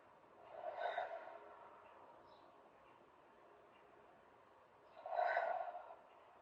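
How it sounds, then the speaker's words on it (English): Two slow, deep breaths are taken during a standing yoga flow. Each is a soft, close, airy exhale swelling and fading, with a quiet pause of about four seconds between them. "We'll take 3 more deep rounds of breath right here."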